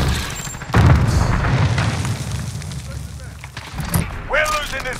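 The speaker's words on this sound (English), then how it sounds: "Using rocket!" Rocket blast in Call of Duty Modern Warfare on the Talsik Backlot map: one loud, close boom with a rumbling low tail that fades over several seconds, over ongoing battle noise and shouted squad chatter.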